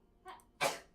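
A single close sneeze follows a short sharp intake of breath, bursting loudly and fading in quiet surroundings.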